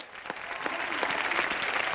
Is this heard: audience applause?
yes